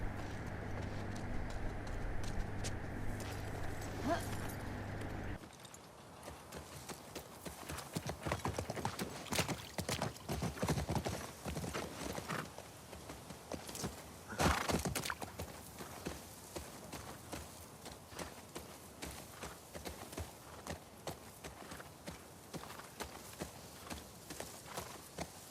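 Horse hooves in The Last of Us Part II clip-clop in a steady walking rhythm through the whole stretch, quiet and close, with faint ambient game sounds and occasional bird calls beneath.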